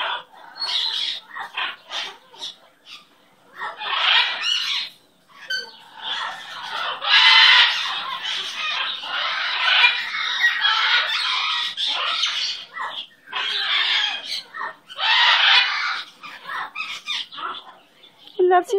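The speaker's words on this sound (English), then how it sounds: "Where's my pretty, pretty bird?" A pet bird clucks and squawks in loud, close bursts of harsh, raspy calls, repeated with short pauses between them.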